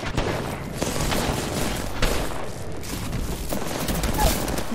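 Rapid bursts of gunfire in an online multiplayer shooter match, loud and dense across the whole stretch, with sharp cracks and booms mixed into continuous shooting and a faint voice underneath.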